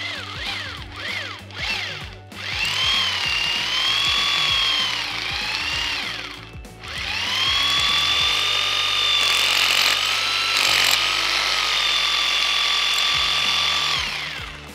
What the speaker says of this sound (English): We're going to go down with the drill